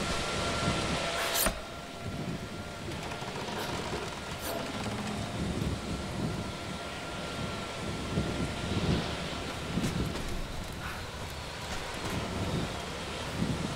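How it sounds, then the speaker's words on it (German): Wind howls and gusts steadily through a wintry scene in the video game Tomb Raider, a broad rushing roar with a few sharper swells, heard alone and fairly loud. "Ach, das ist der Wind."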